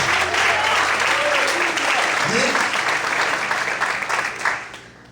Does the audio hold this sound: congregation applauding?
yes